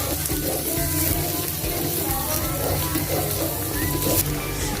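Garlic and onion sauté in a hot pan for Filipino menudo, giving a continuous loud crackling sizzle with bubbling, close up and steady throughout.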